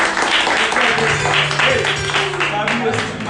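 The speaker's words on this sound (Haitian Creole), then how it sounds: "On voit applaudissement pour AliExpress." Applause from a live audience at a food and beauty fair, a dense wash of clapping with a steady crowd din and some voices mixed in throughout.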